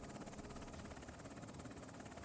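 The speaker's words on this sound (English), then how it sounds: "Oh, this is still the helicopter." Steady rotor thrum of a helicopter in a video game set in Afghanistan, a continuous pulsing drone at low level with no breaks.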